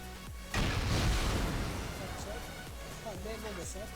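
An explosion in the video game Rust, a single loud boom with a rumbling tail that fades over a few seconds, followed by faint game sounds.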